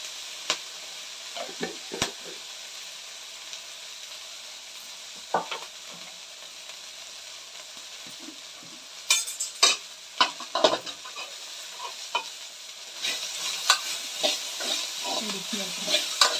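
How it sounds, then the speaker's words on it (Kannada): Ivy gourd sprinkled with turmeric is stirred and fried in a pan for rice bath, soft sizzling broken by repeated scraping and clinking strokes that grow busier toward the end. "ಈ ರೀತಿ ಚೆನ್ನಾಗಿ ಹುರ್ಕೊಬೇಕು"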